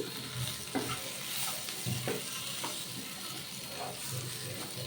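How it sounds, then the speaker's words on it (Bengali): Potatoes get stirred into fried okra and roasted besan in a pan, making a constant close sizzle broken by rhythmic scraping strokes of a spatula, with no voices. "এবার দিয়ে দিলাম আলুগুলো। আলুগুলো মিশিয়ে নিচ্ছি।"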